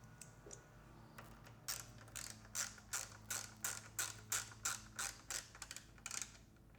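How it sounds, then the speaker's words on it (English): The original BMW screw with a plastic washer being driven into a headlight protection bracket on a BMW R1200 GS Adventure, heard as a close run of regular ratchet clicks that starts after a few scattered taps, with no voices. "Now I'm going to fit the screw which is on the top of the bracket."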